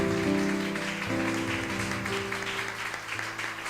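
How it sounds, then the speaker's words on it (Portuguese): A church congregation applauds to welcome its founding pastor, a sustained, even wash of clapping that fills the room and holds steady for several seconds before easing slightly. "Eu peço que a igreja o receba com palmas"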